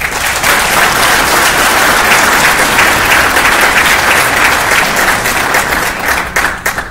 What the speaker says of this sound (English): Please join me in a round of applause for our distinguished honor graduates.